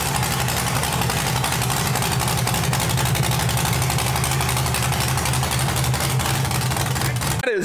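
An LS V8 swapped into a Chevy S-10 burnout truck idles loudly and steadily with a deep, throbbing rumble, close up, ending with an abrupt cut.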